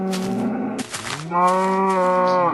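A cow in the Minecraft video game lets out a loud, close moo that breaks briefly before rising into a second drawn-out lowing call.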